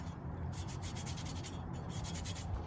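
A drywall sanding screen rubs across abstract plaster in quick, even back-and-forth strokes, a soft, close, continuous scratchy hiss with no talk.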